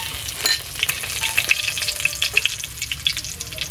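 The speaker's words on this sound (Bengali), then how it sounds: "এই তেলের মধ্যে অল্প একটু জিরে ফোড়ন দেব" Cumin seeds and two bay leaves frying in hot oil in a village kitchen, a steady close sizzle with scattered crackles and pops throughout, no voices.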